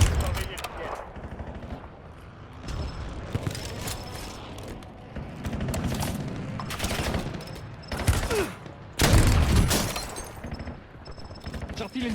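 Gunfire in the Warzone battle royale game: repeated bursts of automatic fire and sharp shots at varying distances, some loud and close, over continuous game ambience with in-game voices talking.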